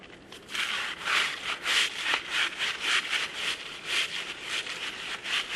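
A chimney brush, undersized for the flue, scrubs thick caked creosote inside a chimney flue. A steady, close scraping rasp pulses back and forth about twice a second and continues throughout without pause.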